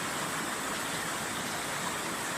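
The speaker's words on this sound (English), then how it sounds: "I don't know how well you can hear me over the sound of the water" A clean, shallow, knee-deep river at a nature campsite rushes in a steady broadband wash, close and constant with no pauses or voices.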